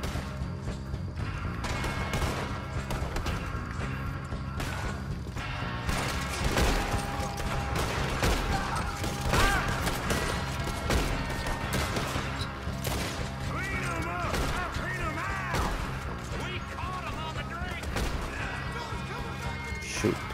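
Chaotic video game firefight with repeated gunshots, crashes and impacts spread across the whole stretch, a person talking over the busy, steady din.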